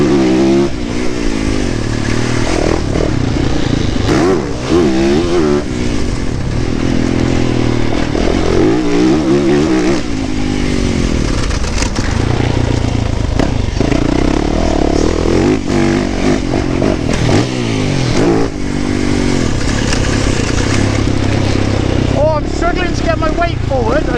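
A Kawasaki KX 450 or Yamaha YZF 450 dirt bike engine runs and revs loudly and up close, rising and falling repeatedly without a break, with a rider's voice faintly underneath at times.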